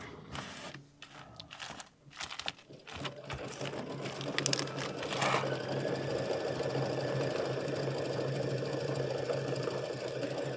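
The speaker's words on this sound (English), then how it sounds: "So now it's just stitching the little snowflake." Embroidery sewing machine stitching a small snowflake, starting with a few scattered clicks and knocks, then settling into a steady, rapid mechanical chatter that runs on close and moderately loud.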